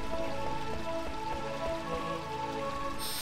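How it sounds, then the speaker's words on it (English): Steady rain pattering on surfaces in a Final Fantasy IX game scene, a continuous wash of drops over a faint ambient music bed, with no speech. "it's always raining"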